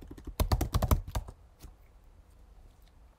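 Quick burst of computer keyboard typing, a rapid run of close, crisp keystrokes clustered in the first second, followed by a few scattered taps and quiet room tone.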